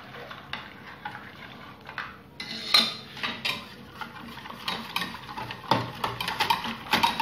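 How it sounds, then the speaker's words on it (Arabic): Cake mixture thickened with starch being stirred in a saucepan, a steady scraping and clinking of a spoon against the pan with soft irregular knocks, close and fairly quiet, with no voices. "كنبقاو نحركو مزيان باش ما يسقش لينا النشا في"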